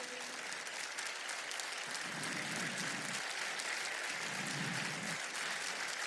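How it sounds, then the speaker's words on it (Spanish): Loud, sustained clapping fills a church as the congregation applauds together; a low murmur of voices swells briefly twice beneath the dense, continuous applause. "Aplauda al Señor bien fuerte."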